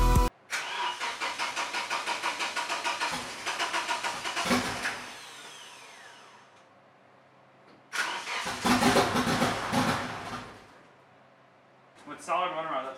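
A Nissan 240SX with a KA turbo engine cranks and fires on the first try, then idles roughly. There are two loud bursts of starter and engine noise with quieter idle between them, and voices talk in the background.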